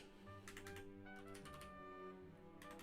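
Quick bursts of computer keyboard typing, several clustered keystroke runs over a steady background hum and game music, close and fairly clear with no talking.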